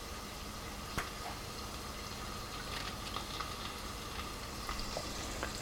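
Butter melting in a hot pan for breakfast, a steady soft sizzle and crackle with a few faint pops and clicks throughout, fairly quiet and alone.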